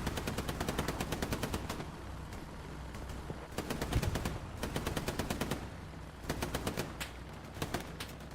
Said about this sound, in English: We're gonna get the double MGs up here on this building